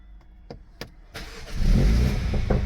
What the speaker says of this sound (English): So start the car up.